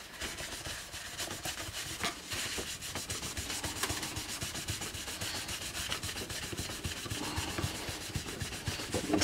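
Cloth rubbing polish into an acrylic Stratocaster guitar body, a continuous close scrubbing swish with rhythmic back-and-forth strokes.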